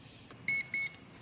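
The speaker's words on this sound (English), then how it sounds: "Wait till it beeps." Two short, high electronic beeps sound close together over a quiet room hum.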